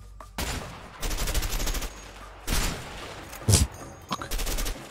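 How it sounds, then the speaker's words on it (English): Powerful sniper rifle shots in the video game A Way Out, several heavy cracking bursts spaced unevenly, loud and close, each ringing out briefly before falling back to a low ambient hum. "This sniper's powerful, man."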